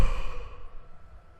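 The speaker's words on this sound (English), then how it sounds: "I just had a yawn there" A single close, breathy yawn from a man, starting strong and trailing off into a soft exhale.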